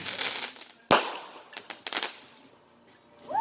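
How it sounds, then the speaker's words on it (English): Low fireworks burst outdoors with a sharp loud bang, then scattered crackles and pops that fade, with fainter distant bursts beforehand and a rising whistle at the end. "There's fireworks over there happening too."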